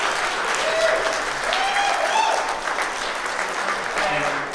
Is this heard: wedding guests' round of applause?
yes